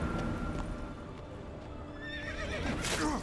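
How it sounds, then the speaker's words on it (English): Horses in The Witcher 3: Blood and Wine clop their hooves nearby, and a loud, wavering neigh rises toward the end over a soft game ambience. "Oh, horses."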